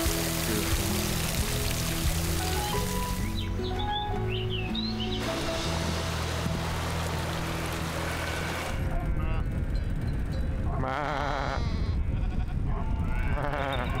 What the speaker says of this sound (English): I'm filming a bunch of sheep crossing the road.